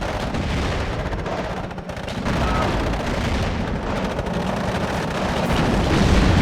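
Sustained suppressing gunfire from infantry and vehicles in the WARNO battlefield strategy game: a dense, unbroken roar of rifle and machine-gun bursts mixed with heavier thuds, loud and constant.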